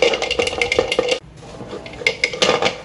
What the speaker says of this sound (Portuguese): E agora nós vamos fazer isso aqui, ó, pra poder limpar a nossa panela.